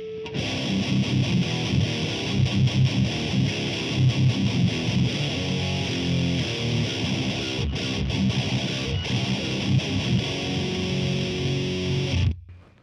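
Electric guitar played through a Fortin-modded Maxon OD-9 overdrive pedal, giving thick, heavily saturated chugging riffs that stay loud and continuous for about twelve seconds, then cut off abruptly.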